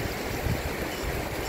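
Steady broadband rush of the Kara river running high with fresh water, continuous and fairly close, with no voices over it.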